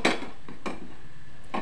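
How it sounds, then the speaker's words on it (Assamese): Grated carrot drops into a frying pan, giving a few short scraping, clattering impacts of a utensil against the pan spaced across a quiet moment, close and moderately loud. "এতিয়া মই ইয়াতে এই গাজৰখিনি দি দিম।"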